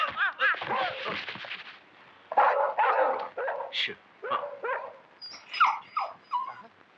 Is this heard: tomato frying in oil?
no